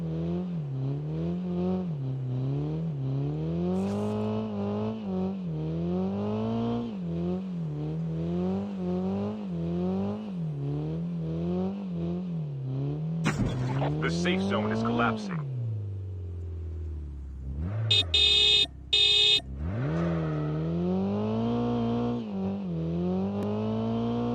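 A car driving in the Call of Duty video game, its engine droning in steady rising and falling revs, followed by a sharp skid and crash-like noise, then revving again with brief rattling bursts.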